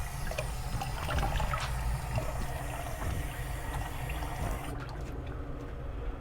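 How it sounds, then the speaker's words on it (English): Running tap water trickles and splashes as excess witch hazel is rinsed from a face after shaving, a steady close wash of water that stops abruptly near the end. "You rinse off the excess witch hazel."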